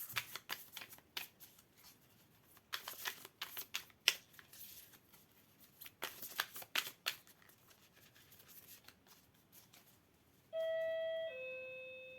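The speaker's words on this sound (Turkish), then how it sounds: "zil çaldı" Cards riffle and snap in quick bursts, then a two-tone doorbell chime rings out clearly near the end.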